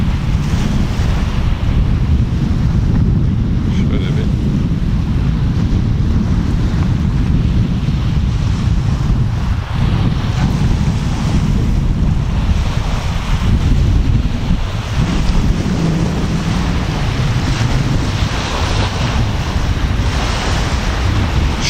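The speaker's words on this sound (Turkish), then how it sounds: "Şu anda çok fazla rüzgar var." Strong wind and breaking sea waves at Pissa cove the day after a storm, a loud, continuous roar with heavy wind buffeting on the microphone throughout.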